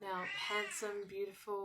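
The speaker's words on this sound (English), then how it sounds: "Sorry, that was my cat." A house cat meows indoors, its drawn-out cries mixed with a person talking at the same moment.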